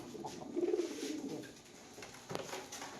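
An English Trumpeter pigeon coos softly in a loft in Ahmedabad, with a short run of low, rolling coos near the start that fades into quiet room noise. No one speaks.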